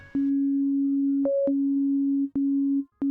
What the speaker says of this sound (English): a pure sine wave, which sounds like this